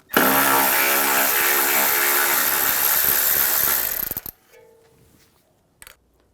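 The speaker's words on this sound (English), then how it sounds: "Using a 10mm socket, take this nut off" A 10mm socket on a power tool spinning a nut off a 2009-2013 BMW 328i xDrive, a loud whirring buzz for about four seconds that cuts off, followed by a couple of faint metallic clicks.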